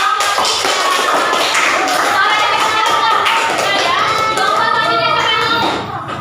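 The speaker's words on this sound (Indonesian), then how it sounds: "Beri semangat, tepuk tangan untuk kelompok 2." Classroom applause for a student group: loud, fast clapping and tapping from pupils, mixed with children's voices calling out together, continuing steadily until it tapers off at the end.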